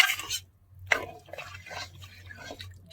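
Water poured into a pot of cooking chicken, a few close splashy pours and drips in short bursts over a low steady hum, no speech.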